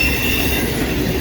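A CSX autorack freight train rolls past on the Old Main Line at Newport, its wheels squealing with a steady metallic rumble, loud and close, over a short stretch with no voices.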